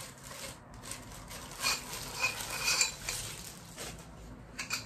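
Light metallic clinks and taps from iron furniture legs, several scattered knocks with scraping handling noise between them, close up and fairly quiet.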